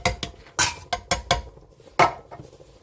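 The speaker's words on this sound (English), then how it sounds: "next we're going to put in our crushed tomato" Crushed tomato going into an Instant Pot: a rapid series of sharp clanks and scrapes of a spoon or can against the metal pot, close and fairly loud, with no talking.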